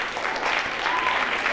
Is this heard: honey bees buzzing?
no